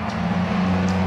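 A BMW race car at Brands Hatch during a club saloon race, its engine a steady loud drone through the whole moment with a slight swell as it passes close by.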